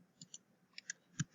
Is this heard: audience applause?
no